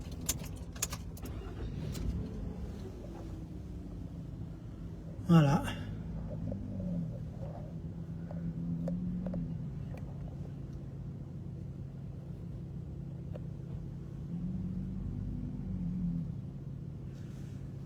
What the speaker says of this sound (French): Et effectivement, je démarre la voiture